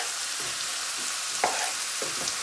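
Spice paste frying in a pan for a Bangladeshi foli fish bhuna, with a steady close sizzle and a few soft scrapes and stirs on top.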